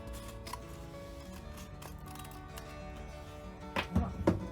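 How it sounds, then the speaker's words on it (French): A mesclun seed packet is being cut open, likely with scissors, for sowing in a balcony planter: faint snips and rustling, then a louder crinkle of paper near the end. "maintenant je vais ouvrir mon paquet"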